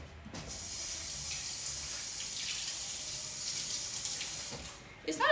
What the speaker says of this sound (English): I should run it under hot water for 1 minute.